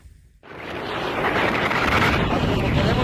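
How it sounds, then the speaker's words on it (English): Strong wind gusting at a lakeside, a loud sustained broadband roar buffeting the microphone that swells in after a brief quieter moment and then holds steady to the end. "A heavy wind wave tore through the area, destroying everything in its path."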